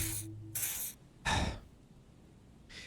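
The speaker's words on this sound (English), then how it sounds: "He douses you with the odd-smelling spray, a double helping as you present your other armpit" Pheromone spray from Disco Elysium hisses out in three separate bursts, two close together and a louder third, with a fourth starting at the end, near and clear with no talk.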